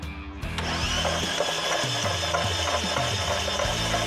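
A seized Chevrolet Astra engine is cranked by its starter, giving a steady, laboring mechanical whir with a shifting grinding pitch that begins abruptly and continues for about four seconds with no voices.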